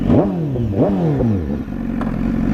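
A 2015 BMW S1000RR fitted with an SC-Project exhaust revs up several times in quick succession, each blip rising sharply then falling, before settling into a loud, crackling idle close by.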